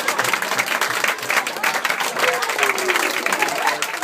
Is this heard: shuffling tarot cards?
no